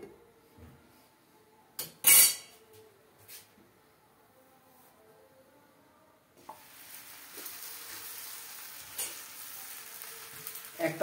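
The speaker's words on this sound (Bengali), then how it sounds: "একটা ভাজতে দিয়ে দিলাম" A flour paratha frying in oil in a pan, starting quiet with a sharp clink and a few knocks, then a soft, steady sizzle swelling in partway through and continuing with light scraping near the end.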